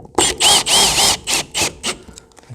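Power drill driving a screw through vapor barrier into a wooden rafter in a woodshop, heard as several loud whirring bursts with rising and falling pitch, close by and alone.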